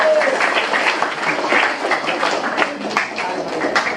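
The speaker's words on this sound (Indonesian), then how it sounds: "Kalau gitu tepuk tangan dulu dong buat kita semua." An Indonesian audience at a children's national-awareness presentation claps together, a loud, continuous spread of hands with scattered voices mixed in.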